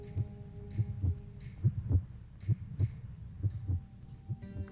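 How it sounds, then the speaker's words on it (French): Heartbeat sounds in a Werner Herzog cave documentary: steady paired low thumps repeating about every second, dominant and fairly close, over a faint sustained hum with no voices. "lorsque les scientifiques s'arrêtent de parler, et que l'on entend ensuite des battements de cœur"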